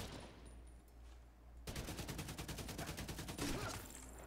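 Rapid automatic gunfire bursts out in The Division 2 after a quiet stretch, a dense string of close, loud shots that keeps going in fast repeated volleys to the end.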